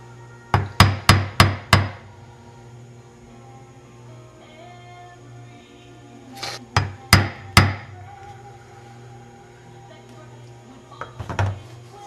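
Mallet taps a carving gouge into wood while outlining a ball and claw foot on a footstool leg: a quick burst of five sharp knocks, then three more after a pause, and a softer pair near the end, close and crisp over a steady low hum.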